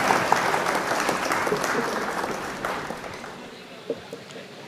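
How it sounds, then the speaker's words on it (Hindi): An audience at an all-India mushaira opening and honour ceremony in Khatauli gives loud applause to welcome the chairman, a dense steady wash of clapping that slowly tapers off. "भाई एक बार जोरदार तालियां बजाकर चेयरमैन साहब का इस्तकबाल करें प्लीज"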